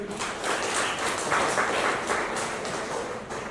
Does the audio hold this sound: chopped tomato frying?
no